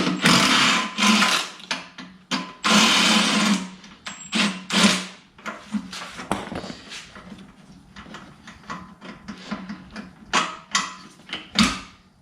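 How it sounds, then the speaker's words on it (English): A 10mm bolt being taken out near the fuel tank of a 2020 Kawasaki ZX6R in a home garage, heard as bursts of rapid mechanical ratcheting with clicks and knocks in between, close and alone without any voice. "there is one 10mm bolt that runs across, and that needs to come out"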